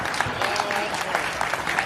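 An audience claps at a Hindi kavi sammelan comedy poetry recital, a brisk patter of many hands at moderate loudness, steady and unbroken across the short stretch.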